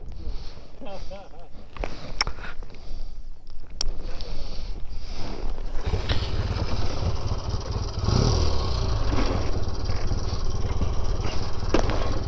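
A 1958 BSA A10 650 motorcycle engine bursts into a loud, close, steady running roar about halfway through, after a quieter stretch of rustling and voices, with people talking over it.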